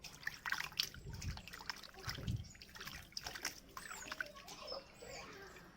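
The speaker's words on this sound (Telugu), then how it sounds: "శుభ్రంగా వాటర్ పోసేసి కడిగేసుకుందాం ఒకసారి" Water poured over raw fish being washed, a soft trickling and splashing that is faint and steady throughout, with a few brief louder splashes.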